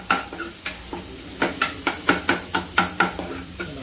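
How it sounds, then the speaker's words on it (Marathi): Onion stir-fried in a pan for veg Manchurian, a bright sizzle broken by a quick regular run of spatula scrapes and taps against the pan, close and lively with no talk. "कांदा टाकल्यानंतर तुला चांगलं परतून घ्यायचं छानपैकी."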